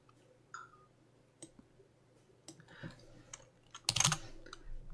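Sparse keystrokes on a computer keyboard, scattered light taps and clicks with a louder burst near the end, quiet and close.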